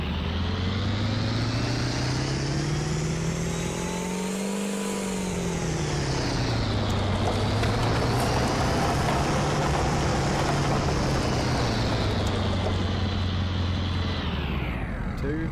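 A Ford pickup with a 7.3 Power Stroke diesel engine roars continuously at a truck-pulling event, loud and near, its engine note rising, dipping and swelling again through the pull with no talk.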